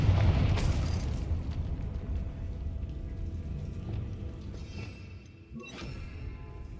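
A Confringo fire spell explodes in Hogwarts Legacy, a loud burst at the start that trails off into crackling rumble and debris, then a fainter second hit near the end.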